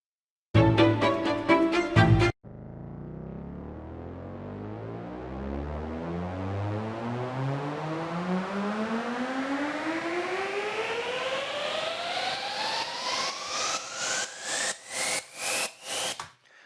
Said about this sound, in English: Next is a riser.